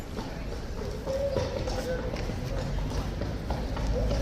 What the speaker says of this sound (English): Here comes a new horse, everybody.